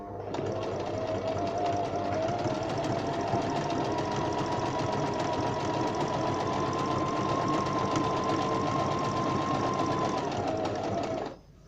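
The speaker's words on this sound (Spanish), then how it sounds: "es muy útil si queremos hacer la costura de falso overlock, donde necesitamos hacerlo bien sobre el bordecito" A Brother BM 3700 sewing machine runs steadily for about eleven seconds stitching a false overlock seam along a fabric edge, a close, continuous whirring hum that stops abruptly at the end.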